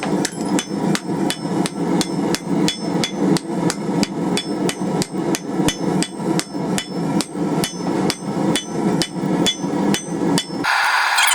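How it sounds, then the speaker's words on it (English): Steady, rhythmic hammer blows ring out close and loud, about two strikes per second, as a metal poppy flower is forged over a small rounding stake set in an anvil's hardy hole, ending in a brief metallic clatter. "Let's work on forging our thing here over this stake a bit more"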